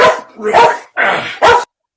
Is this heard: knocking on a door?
no